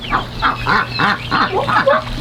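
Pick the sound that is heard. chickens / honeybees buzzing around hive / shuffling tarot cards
chickens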